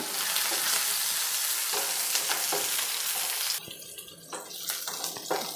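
Egg batter fries in a pan for an egg capsicum curry, a close steady sizzle that suddenly drops and thins near the end before crackling up again, with light scraping and no talk.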